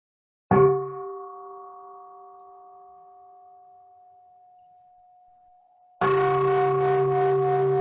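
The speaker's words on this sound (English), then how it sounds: "Would you like a sound of the bell before you start?" A meditation bell is struck once at the start of an online Buddha Purnima gathering, ringing with a clear sustained tone that slowly decays for several seconds before a louder second strike sounds near the end.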